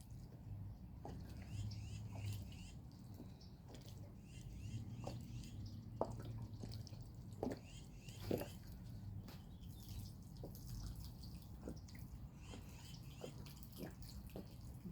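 Water dripping and splashing as small seeds in an outdoor container garden are watered, heard as scattered, irregular soft drips over a quiet low outdoor hum, with faint birdsong.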